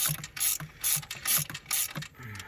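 A ratchet wrench tightens down the mounting bolts of a 390-amp alternator after the belt goes back on, giving quick bursts of loud, rapid clicking in a steady back-and-forth rhythm, close up and with no talk.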